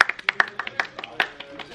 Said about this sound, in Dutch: Klap maar even voor jezelf.